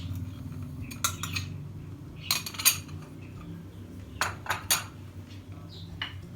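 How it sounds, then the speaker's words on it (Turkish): A utensil stirs sugar into cream in a metal pot, making several bursts of clinking and scraping against the pot over a low hum, with short pauses between strokes. "Ve karıştırıyorum."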